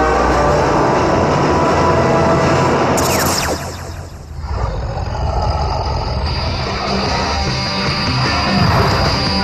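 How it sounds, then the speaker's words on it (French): Cartoon metro train rushing through a subway tunnel, a loud rumbling roar with a high screeching sweep as it passes, a brief dip, then continued rattling rumble to the end. "Ah, le métro, sauf qui peut."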